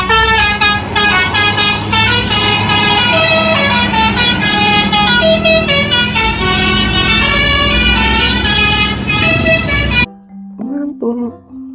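A Sugeng Rahayu bus passes close by sounding a loud, multi-tone melodic horn continuously for about ten seconds over engine rumble, then the horn cuts off, leaving faint traffic and a brief voice.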